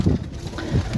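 Soft, low pigeon cooing in short pulses, close by, with light wind noise in the background.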